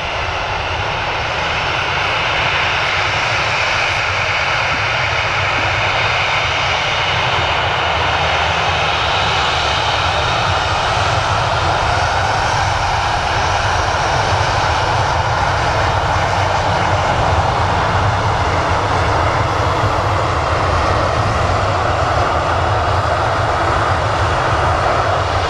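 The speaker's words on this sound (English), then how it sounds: "a member of the Ryanair UK family, this the 737." A Ryanair UK Boeing 737 at Manchester Airport makes a loud, continuous jet engine roar that holds steady and close throughout, with no talk over it.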